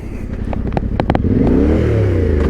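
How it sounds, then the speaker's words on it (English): Skip lorries drive past on a Norfolk village road, a loud, close engine rumble that swells and holds, with some flapping and clattering near the start. "Skip lorries."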